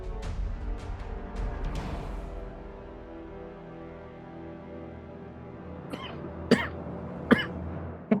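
A few quiet coughs and throat-clearing sounds at the start, then a lull, followed by several more short coughs.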